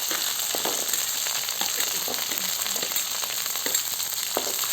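Garlic and onion fry in hot oil with a constant close sizzle, broken by soft stirring scrapes.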